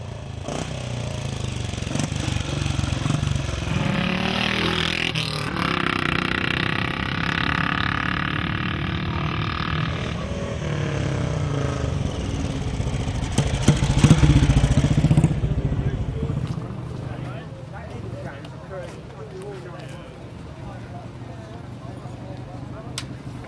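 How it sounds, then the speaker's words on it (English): A 1937 497cc Empire Star motorcycle climbing the hill at the Brooklands Centenary Motorcycle Meeting gives a steady, throaty single-cylinder drone that rises briefly and then eases off, with voices talking over it throughout. "John Garner on his 1937 497cc Empire Star, still carrying its 124 number"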